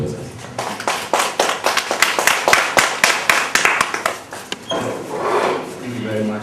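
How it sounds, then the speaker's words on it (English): Audience at a copyright workshop on education and research gives a round of applause for a guest of honor: a burst of dense, rhythmic clapping that fades into a softer, scattered patter after a few seconds. "Mr. Pupi, round of applause."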